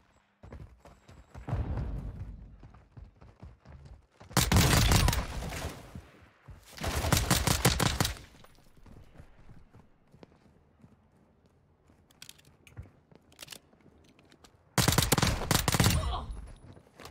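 Pistol fire in a first-person shooter game comes in several loud, dense bursts of rapid shots separated by quieter stretches of softer gameplay noise.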